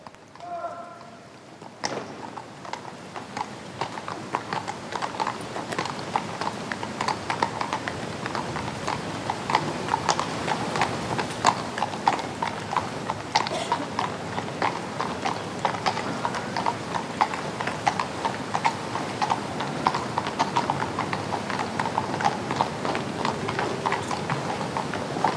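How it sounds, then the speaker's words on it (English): Mounted police horses of Police Scotland walk in procession up the Royal Mile in Edinburgh, a dense, steady clatter of many hooves on the street that runs continuously and fairly close, with faint crowd ambience. "Mounted police of Police Scotland, providing the sound of horses that would so please the late Queen, lead this procession up the Royal Mile."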